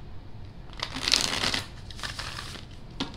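Tarot cards are shuffled up close in a few quick riffling bursts, with brief pauses between them in an otherwise quiet room.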